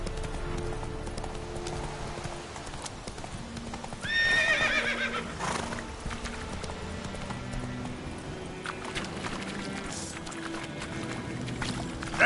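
Horse hooves clip-clop steadily in The Witcher 3: Wild Hunt as the rider urges the mount on, with a whinny rising near the middle and game ambience and music running underneath.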